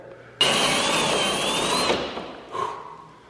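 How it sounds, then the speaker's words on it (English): A power tool whirs at high speed while sanding down a drilled hole in the metal of a Porsche Cayman S, one steady burst of about a second and a half, followed by a short softer grinding touch. "I believe what he's doing right now is sanding down the hole for some reason."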